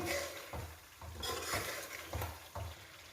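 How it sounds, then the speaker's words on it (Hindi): Kelaji masala mixed with yogurt is stirred in a pan, with rhythmic scraping strokes against the metal about every half second over a gentle, continuous sizzle. "इसको अब हम अच्छे से मिक्स करेंगे"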